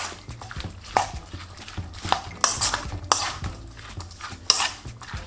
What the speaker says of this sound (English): add all of your veggies into this bowl and some of the sauce. Give that a really good mix